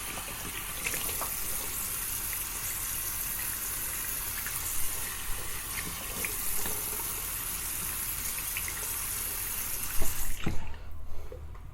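Running water splashing steadily from a tap while a face is wetted before a shave, a constant close gush that cuts off near the end with a few louder splashes and knocks.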